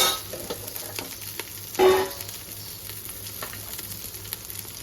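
Onions and ginger-garlic paste frying in oil for a home-made chicken mandi, a steady soft sizzle with light stirring and one brief louder clatter midway, no talking.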